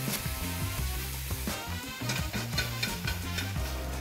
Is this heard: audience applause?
no